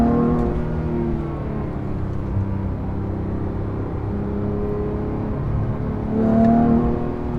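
A Porsche GT3 Touring's engine drones steadily while cruising, a loud close harmonic hum under constant load that swells into a brief rising rev near the end.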